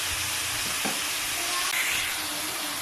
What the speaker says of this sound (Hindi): अब इसे भूनते रहेंगे जब तक कि ये अच्छे से फ्राई नहीं हो जाता।